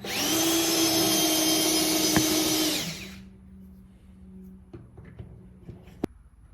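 Special end-squaring tool trimming a pen blank down to its brass tube, a loud high whining drill-like buzz for about three seconds that cuts off, followed by quiet with small clicks and a sharp tap.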